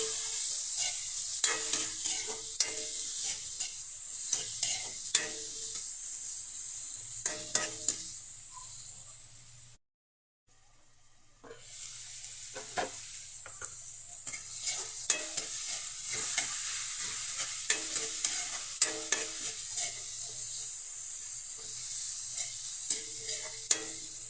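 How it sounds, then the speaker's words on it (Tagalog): Tomatoes sautéing in a pan for Filipino ginisang ampalaya give a steady close sizzle, broken by repeated stirring scrapes and taps, with a brief silent gap partway through. "Ilagay na natin yung ating kamatis. Igisa natin hanggang sa lumambot."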